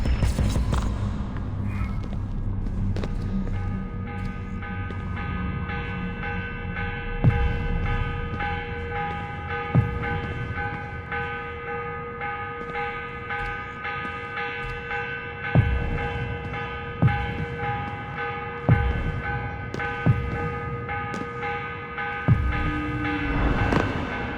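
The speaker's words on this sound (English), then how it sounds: "Morning bell." A large church bell rings in the morning in Assassin's Creed Revelations, loud and close, struck at a slow, steady pace with long humming tones that linger and build over a low drone.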